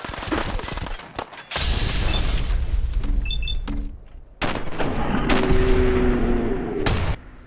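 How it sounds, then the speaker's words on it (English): Shotgun blasts aimed at raiders in Fallout 4 boom out in heavy, loud bursts separated by short gaps, mixed with game mechanism clicks and a tonal hum, close and alone without talk. "I guess trying to shoot long range with the shotgun. Not the best move."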